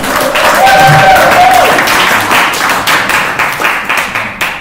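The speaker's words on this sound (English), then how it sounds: "Please give him a big round of applause." Crowd at a local Democrats' speaker event in Missoula applauding a candidate as he takes the stage, loud sustained clapping that gradually thins out toward the end.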